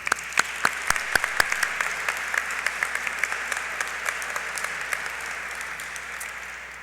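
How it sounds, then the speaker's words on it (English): Sustained audience applause at a military change of command and promotion ceremony for an Air National Guard attack wing, a dense steady wash of many hands with a few sharper nearby claps standing out. "Let's have a round of applause for the airmen who put this event on."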